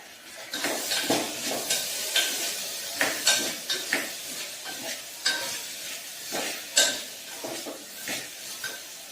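Potatoes and onions fry in a pan for masale bhat, with a continuous sizzle. A spoon stirs and scrapes against the pan in repeated close, rhythmic strokes, and no one speaks.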